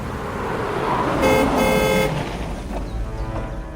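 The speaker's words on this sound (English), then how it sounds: "The car slows down as it approaches a magnificent gateway." In a radio drama scene, a car rumbles close by as it draws near and eases off, with a brief horn-like tone sounding midway.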